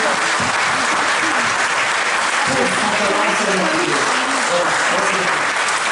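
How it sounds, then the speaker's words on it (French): A loud, dense wave of applause for Florent from a jazz orchestra concert audience, sustained and even throughout with a few voices breaking through. "donc Florent, que je voudrais applaudir très fort"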